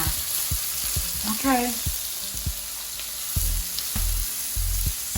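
Taco vegetables with soy sauce sizzle and fry steadily in a pan, with scattered stirring clinks and scrapes, close and moderately loud, and a brief spoken word.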